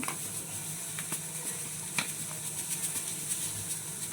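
Semolina hits a hot pan for sooji halwa, giving a steady soft sizzle and frying hiss with occasional stirring scrapes and light ticks, close and continuous, no talking.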